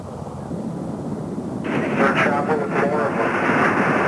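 A helicopter flies overhead during an armed federal standoff, a steady engine rumble that grows louder midway with fluttering rotor noise, close and continuous, while voices talk over it.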